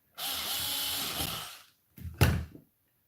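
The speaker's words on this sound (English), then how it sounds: "Just don't overdo it with the power tools." Power drill driving black screws into the chassis of a Tamiya Lunch Box mini SW-01 radio-controlled car kit, one long whirring run followed by a shorter burst, close and loud with no talking.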